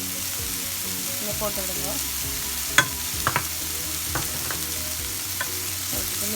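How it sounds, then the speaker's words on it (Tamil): Onions, chilli and garlic fry in a pan on low heat, giving a steady close sizzle with scattered clinks and scrapes of a stirring spoon, while a voice talks briefly over it. "வெங்காயம் ஒரு 2 minutes ஃப்ரை பண்ண பிறகு நீங்கள் சில்லியையும் garlicகையும் போடலாம்"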